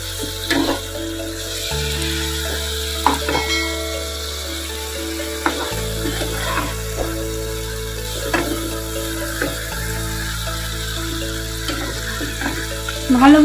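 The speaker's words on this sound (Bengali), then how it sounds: "নেড়েচেড়ে ভালোভাবে মিশিয়ে নিব" Chicken pieces being stirred with spices for a roast in a hot pan, with repeated clattering scrapes of the utensil against the pan over a low sizzle and a tonal background hum.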